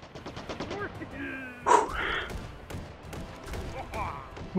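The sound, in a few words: gunfire from the video game Hot Dogs, Horseshoes & Hand Grenades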